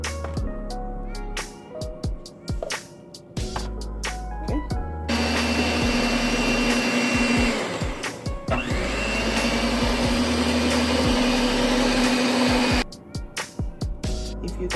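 A stand mixer creams butter with a cup of brown sugar for a Jamaican fruit cake, a steady loud motor whir running in two long stretches with brief clatter and handling sounds before and after.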